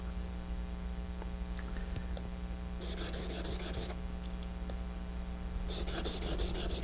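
A leathercraft swivel knife blade rubbed across a coarse sharpening stone in two separate bursts of gritty rasping strokes, close up over a low steady mains hum.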